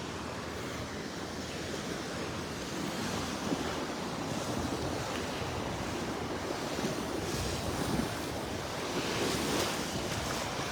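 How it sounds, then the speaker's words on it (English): Rough sea surf breaking steadily on the beach at Delnor-Wiggins, a continuous loud wash of waves mixed with wind buffeting the microphone, no voices. "And that water's rough too."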